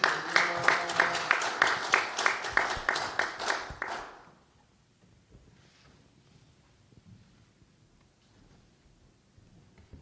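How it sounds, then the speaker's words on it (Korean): A church congregation at a special Lenten prayer service claps in rhythmic unison to welcome a guest preacher, loud and steady for about four seconds before the room falls quiet. "이제 강사님 나오실 때 박수로 환영하겠습니다"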